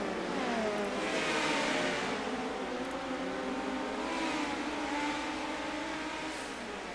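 Dirt track race cars running on lap 9 at a Kern speedway night race, engines whining and revving steadily at a moderate distance, with the pitch rising and falling as the cars pass and no talk.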